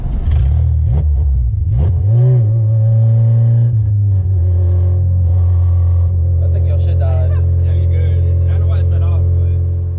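Honda Integra with a K24 engine and hybrid racing intake accelerating hard, engine note rising then holding a loud, steady roar, with people talking over it.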